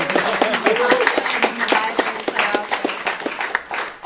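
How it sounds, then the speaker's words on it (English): Scattered clapping from a small audience at a community market gathering, steady crackle of hands with a voice speaking over it throughout. "So a round of applause for that too."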